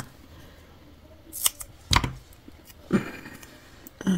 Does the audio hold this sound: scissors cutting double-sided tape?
yes